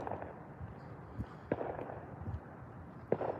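Fireworks going off outdoors in the distance: a few muffled pops and thuds spaced irregularly, faint against a low background rumble, with no talk.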